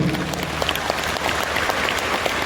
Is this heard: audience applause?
yes